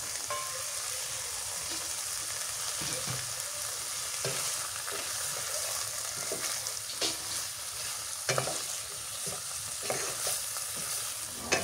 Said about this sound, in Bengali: ছাগলের তেল দিয়ে দিই, কষানি করে নিই।